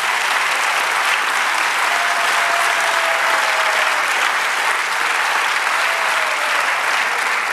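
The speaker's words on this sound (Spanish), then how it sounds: "Den un aplauso a Jesús." A church congregation applauds during a pastor's sermon, a dense, steady wash of clapping that fills the whole stretch at even loudness, with no voices rising above it.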